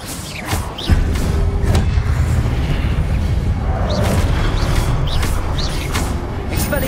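Confringo spell explosion in Hogwarts Legacy, a heavy booming thud about a second in followed by a prolonged rumbling roar with scattered crackles and small impacts.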